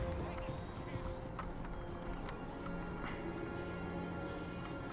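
Units of horse cavalry move in Empire: Total War, their hooves making a steady, continuous clip-clop. The sound is quiet and even, with a low rumble underneath and a few sharper clicks.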